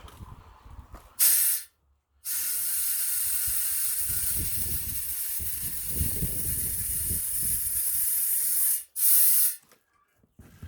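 Soapy water sprays from a bottle around the rim of a new UTV tire, a loud sustained hiss broken by brief gaps and short bursts, with some low handling noise beneath.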